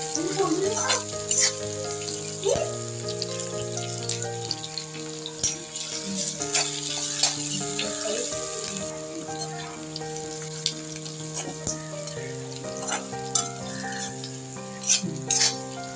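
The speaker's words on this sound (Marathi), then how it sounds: "आता या कांद्यामध्ये कढीपत्ता व मिरची घातलेली आहे व हे कांद्याबरोबर आता सर्व परतवून घेऊया" Chopped onions with curry leaves and green chilies sautéing in a pan, a steady close sizzle with occasional stirring scrapes, heard under continuous background music.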